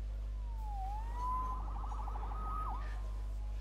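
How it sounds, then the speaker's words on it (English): A police siren wails in a Spider-Man video game, one rising and falling electronic tone that sweeps into a rapid warbling yelp before dropping away, over a steady low hum. "Saved by the siren."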